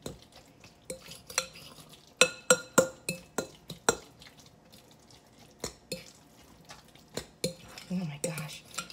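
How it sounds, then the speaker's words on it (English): A spoon clinks and scrapes against a bowl while garlicky guacamole is stirred, with bursts of quick taps separated by quieter pauses, close by, ending with a faint voice-like sound. "just stir that in there. Again, get it incorporated really well."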